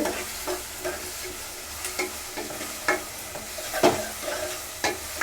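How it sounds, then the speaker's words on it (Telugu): Onions with green chilies and curry leaves fry and sizzle in a pan, with steady crackling broken by periodic scraping stir strokes, no voices. "ఉల్లిపాయలు కూడా ఏగిపోయినవి చూడండి"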